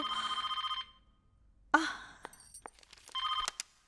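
A telephone bell rings in a rapid trilling burst that cuts off as the call is answered. A gasp and soft rustling follow, then the ringing returns briefly, loud and close, in an indoor film scene.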